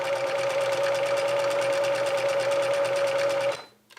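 A sewing machine about 30 years old stitches fabric at its top speed, a loud, steady rapid whirring and clatter held for about three and a half seconds before it abruptly stops.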